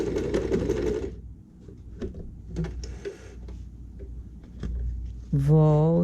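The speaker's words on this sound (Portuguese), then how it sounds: "Faço um retrocesso no início e costuro até a marcação" A domestic sewing machine runs in short whirring bursts, with a brief reverse backstitch at the start, separated by quiet gaps and small clicks, ending in a louder sustained hum as it stitches a fabric bag.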